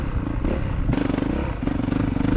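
A dirt motorcycle rolls down a hill and over a jump, its engine droning and revving in pulses, with rattling clatter from the bike, loud and close.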